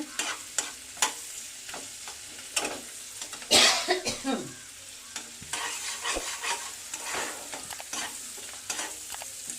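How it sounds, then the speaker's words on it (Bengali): Onion, garlic and bay leaf frying in a pan, with a steady soft sizzle broken by a series of clicking, scraping stirs and a brief cough nearby. "পেঁয়াজ রসুনটা হালকা হালকা ভাজা হয়েছে"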